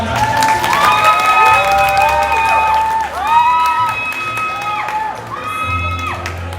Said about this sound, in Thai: ก็ถึงปรบมือครับ